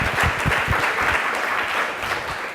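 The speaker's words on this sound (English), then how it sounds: "Let's give a round of applause to our panelists." An audience at a research panel on Python gives the panelists a round of applause: dense, steady clapping that fades slightly toward the end, with no talking over it.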